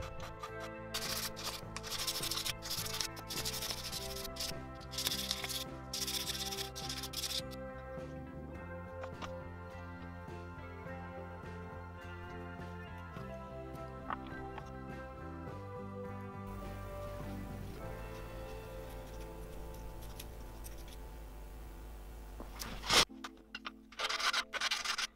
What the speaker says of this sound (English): I'll then file and sand down all the rings and have another test fit